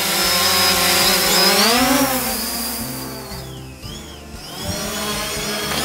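A Fimi X8 SE 2020 drone hovers close by, its loud, whining propeller buzz rising and dipping in pitch as it holds position, then easing slightly as it drifts away.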